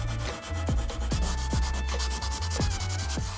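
Sandpaper rubs across a painted vintage sink to distress the finish in close, repeated scraping strokes, about two per second.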